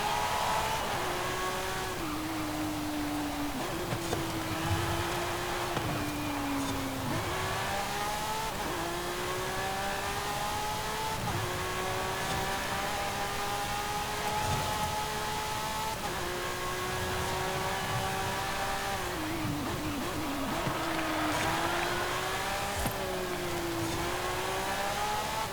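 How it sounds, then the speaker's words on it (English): Lamborghini Sián Roadster in Forza Horizon 5, a loud engine note rising and falling through repeated revving climbs and gear changes for the whole stretch, close and continuous with no talk. "let's just listen to the car's engine for a little bit"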